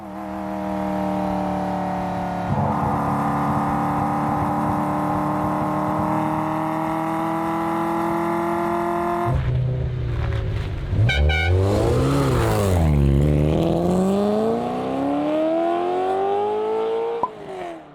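A supercar engine revs up to 9,000 RPM, a loud sustained roar that climbs, drops, then sweeps up and down through sharp rising and falling wails before one last short blip at the end.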